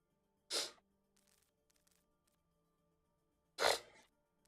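Two sharp sneezes, loud and close, burst out about three seconds apart during an online team game session, with faint clicking in the quiet gap between them.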